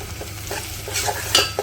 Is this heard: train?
no